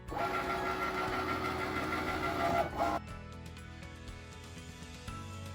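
Cricut Maker cutting iron-on material with a fine point blade, a busy mechanical whir and motor hum that drops abruptly midway into quieter clicking and carriage movements.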